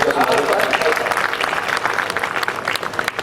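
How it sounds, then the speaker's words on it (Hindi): A crowd at a poetry recital claps in a burst of applause, with a voice talking over the clapping. "एक बार तालियां बजा दो।"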